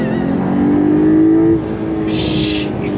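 Flat-six engine of a 2023 Porsche 911 Carrera T pulling hard in first gear, a loud steady rising drone heard from inside the car, briefly easing before a hiss near the end.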